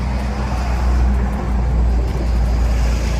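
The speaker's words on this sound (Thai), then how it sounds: "ต้องขออภัยทางด้านเสียงด้วยนะครับ หมายนี้ก็รถจะค่อนข้างวิ่งแรง" Loud, continuous road traffic rumbles past close by beside an irrigation canal in Thailand, a steady roar of fast vehicles with a deep engine drone and no voices.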